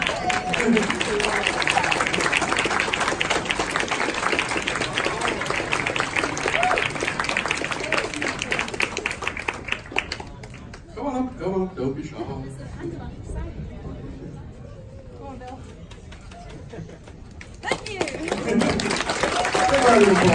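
Applause and cheering from a crowd at an anime convention prize announcement, loud at first, then dropping to chatter and speech before the clapping swells again at the end.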